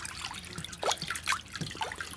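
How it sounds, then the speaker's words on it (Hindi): Water is poured into a container for chickens in a bird pen, a close, uneven trickle and splash in short gurgling bursts. "ये पानी शानी डाल देते हैं।"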